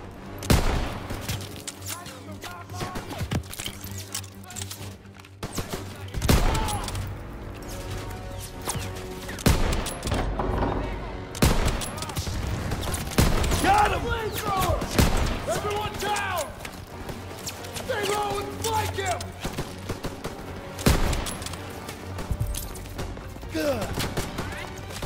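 Bursts of machine gun fire and scattered gunshots in Call of Duty Modern Warfare, sharp cracks and rattling volleys repeating through a busy battle, with shouted voices mixed in throughout.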